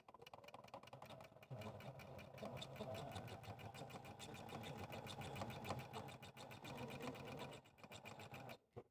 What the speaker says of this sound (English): go ahead and step to our machine, and we're going to stitch a 1/4 inch seam on both sides of this drawn line